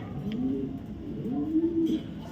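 A young male racer pigeon from a 2023 club race team gives several deep, rolling coos close up, rising and falling in smooth swells with faint background noise.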